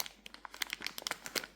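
A plastic Ziploc bag crinkles up close while a GoPro is packed into it, giving rapid, irregular crackles and rustles throughout the short moment.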